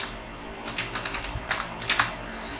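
Someone types on a computer keyboard, producing a quick irregular run of close, crisp key clicks over faint steady background hum, with no talking.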